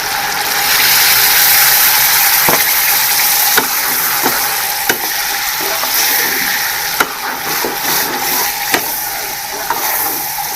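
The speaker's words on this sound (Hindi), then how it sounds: "अब हम इसमें डालेंगे ग्रेवी, जो हमने लहसुन, अदरक और प्याज बॉयल करके ग्रेवी बनाई हुई थी।" A boiled garlic, ginger and onion gravy sizzles loudly in a hot pan while cooking hari mirch handi, a continuous frying hiss broken by scattered clicks and scrapes of stirring.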